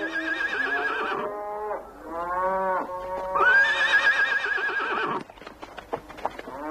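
Horse neighing on a farm, several loud, close whinnies in a row with a rising, shaky pitch, followed by quieter snorts and shuffling.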